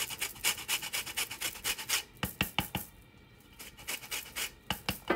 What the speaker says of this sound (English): This is where the lemon zest comes in, guys.